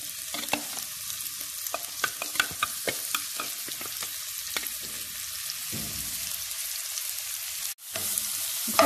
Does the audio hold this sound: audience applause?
no